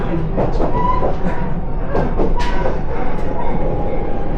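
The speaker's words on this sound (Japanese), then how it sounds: "松本行きワンマン列車です。" A one-man local train bound for Matsumoto rumbles steadily throughout, with continuous rail noise and faint clattering from the carriage, close and fairly loud with no speech.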